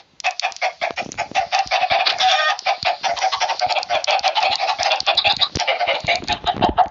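Minecraft chickens cluck continuously, a dense, busy chorus of many birds at steady loudness with no pauses.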